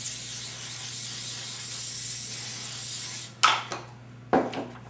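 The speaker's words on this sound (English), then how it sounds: "I'm going to go ahead and put the spray adhesive on the back of this pattern." A steady hiss of spray adhesive from an aerosol can onto the back of a paper pattern for a few seconds, then stops, followed by brief rustling and handling sounds.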